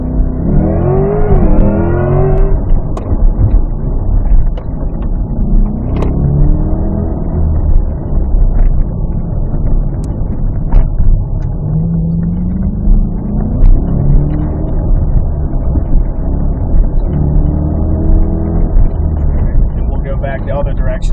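Chevrolet Corvette E-Ray, 2024, launching hard under launch control on an autocross course at a raceway, a loud sustained engine roar rising in pitch then holding a steady drone, with people talking over it.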